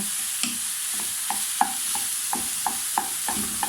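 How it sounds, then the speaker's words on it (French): Seasoned ground beef fries in a pan under a constant close sizzle, with regular scraping and tapping strokes of a spoon stirring it, about one every third of a second. "Allez, on mélange comme il faut. On va cuire ça pendant environ 7 minutes."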